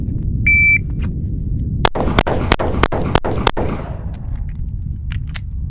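Rapid cadence drill of six closely spaced pistol shots from a Springfield Hellcat, loud and near, each crack sharp and evenly paced, followed by a fading echo and a brief beep beforehand.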